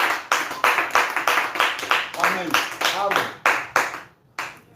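Church congregation clapping in unison to acclaim the late Reverend Baouti Kassongo, a steady rhythmic beat of many hands, loud and close, with a voice speaking and a few sung or spoken tones over the clapping.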